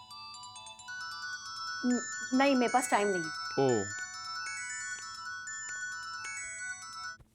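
A phone ringtone for an incoming call plays a steady, melodic electronic ring that runs nearly the whole time, with a person briefly speaking over it partway through.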